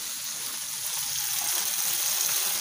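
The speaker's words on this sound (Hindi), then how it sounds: "आटे में धीरे धीरे पानी डाल के उसको मिक्स करना है" Water poured slowly into flour while it is worked by hand, a soft steady wet hiss with faint squelchy mixing underneath.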